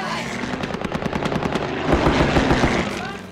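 Rapid bursts of machine gun fire rattle from low-flying attack aircraft on strafing runs, loud and continuous with a heavier surge midway, the staccato reports layered over a roaring engine.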